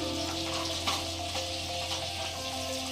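A small amount of butter sizzling in a pan, a soft, continuous low sizzle heard fairly close and alone.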